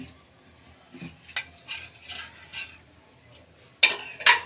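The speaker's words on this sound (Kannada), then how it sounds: "ಕಾರ್ನ್ಫ್ಲೋರ್ ಹಾಕ್ಕೊಂಡು ಕೈ ಆಡಿಸ್ತಾ ಇರೋಣ ನಿಧಾನಕ್ಕೆ, ಮೀಡಿಯಮ್ ಫ್ಲೇಮಲ್ಲಿ" A spoon stirs tomato sweet with melted jaggery and added cornflour in a pan over a medium flame, making a handful of soft scraping strokes, then two sharper, louder scrapes near the end.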